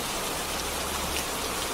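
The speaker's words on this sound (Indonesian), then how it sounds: "Itu suara hujan." Steady, dense rain hisses continuously, a close, even wash of falling drops with no voices.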